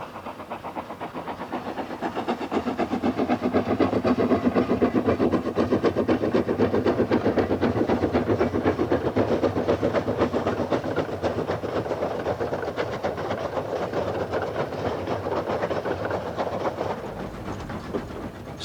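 A steam train on the Isle of Man line to Port Erin runs past loud and close with a dense, continuous rumble, rapid rhythmic wheel clatter and hissing steam that holds steady for the whole stretch.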